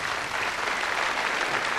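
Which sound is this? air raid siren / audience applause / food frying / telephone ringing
audience applause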